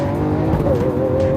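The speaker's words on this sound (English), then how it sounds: "I like to put the transmission into full manual Corsa mode, which is the most aggressive shift language" A 2013 Lamborghini Aventador engine revs up sharply during a manual downshift in Corsa mode, a loud, rasping growl with a rising tone, heard close.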